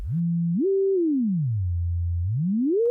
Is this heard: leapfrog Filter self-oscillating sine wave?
yes